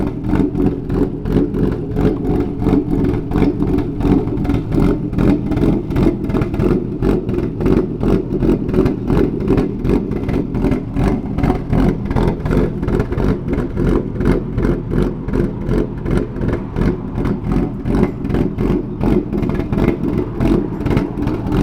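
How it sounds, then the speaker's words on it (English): A Ford S550 Mustang with an Auto Mafia Racing Ghost Cam tune idles at about 950 rpm, a loud, close, steady lopey engine rumble with rhythmic choppy pulses throughout, no voices. "so that way you can hear the Ghost Cam at 950 idle"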